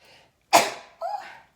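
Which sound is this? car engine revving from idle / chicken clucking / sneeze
sneeze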